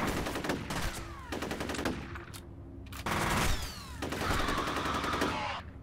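Gunshots in the video game F.E.A.R., several loud bursts of automatic fire separated by brief gaps, with ringing metallic tails and no talking over them.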